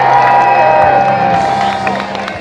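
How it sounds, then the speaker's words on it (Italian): A large crowd at a Giro d'Italia cycling awards ceremony cheers and applauds loudly, with a steady roar of voices and clapping that fades slightly toward the end. "Il vostro applauso per Elia Viviani."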